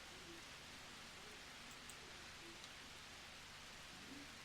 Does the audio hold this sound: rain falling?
yes